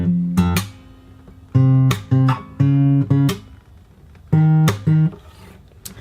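A fingerstyle guitar plays the bass pattern of the drop section of a song, with clear plucked notes and short rests between phrases, close and loud, with no voices.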